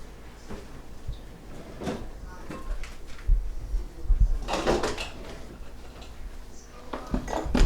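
Clattering and knocking of kitchen items being moved around, with a few louder bumps and thuds, as a mini chopper is pulled from a cupboard.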